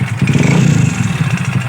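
Revving motorcycle engine, a Bajaj NS 150 with a connecting rod fault, running close and loud with a steady low throb and a rough clattering knock throughout.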